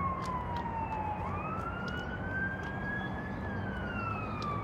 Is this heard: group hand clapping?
no